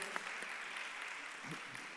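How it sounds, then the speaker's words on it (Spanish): Faint, steady applause rises from a conference audience as a brief, even wash of clapping with no distinct voices. "Dale un aplauso, por favor, al vídeo que nos ha presentado Remy"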